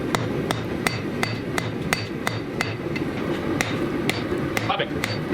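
A hammer strikes meteorite metal on an anvil in an even rhythm of sharp ringing blows, roughly a dozen in a row, over a constant low roar from a forge.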